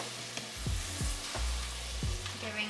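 A tomato and onion mixture hits toasted pasta in a hot pan and is stirred, giving a moderate sizzle with a few low thuds of the spoon knocking the pan, close and without speech.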